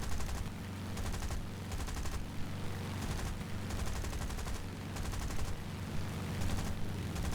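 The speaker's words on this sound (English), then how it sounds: "Let's fire the numerous 303 rounds we have to try to scare him into maneuvers." Sustained bursts of .303 machine-gun fire from a CAC Boomerang fighter in War Thunder, a dense continuous rattling roar over engine drone, loud and steady throughout with no talking.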